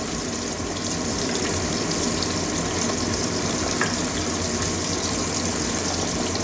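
Small fish fry three at a time in hot oil with a dense, loud, continuous sizzle and bubbling close up, no voices.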